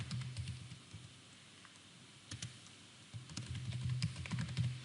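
Typing on a computer keyboard while filling in a registration form, quiet, close key taps in uneven bursts with short pauses between.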